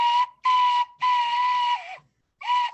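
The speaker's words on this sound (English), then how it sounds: "Let me hear you toot on that recorder." A recorder plays a few sustained notes, four separate toots with short gaps between them, loud and clear with nothing else heard.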